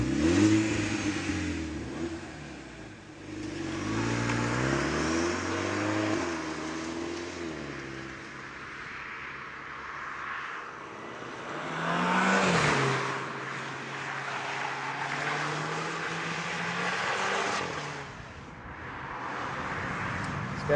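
A VW Polo GTI's 1.4 litre turbocharged and supercharged engine revs hard under acceleration, its pitch climbing and dropping through repeated gear changes, loud and close with no talk.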